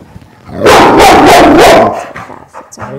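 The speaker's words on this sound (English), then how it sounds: "What are you barking at?" Dog barking close by in a home, a burst of several rapid loud barks in a row followed by a quieter yip and some soft movement.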